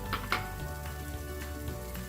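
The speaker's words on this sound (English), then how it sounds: "I'm going to start by sauteing some curry leaves" Curry leaves sizzling in a hot pan for beef masala, a steady crackling hiss with a couple of sharp clinks near the start.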